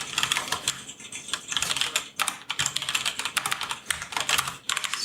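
Rapid typing on a mechanical keyboard, a dense, irregular stream of crisp key clicks and clacks at close range with brief pauses, no voices.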